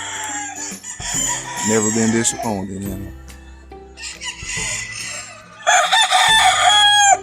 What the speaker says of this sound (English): I like these old BLUEFACE. Them and my grays are my favorite chickens.